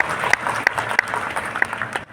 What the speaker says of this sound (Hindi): आपसे हम गुजारिश करेंगे जोरदार तालियों की अपील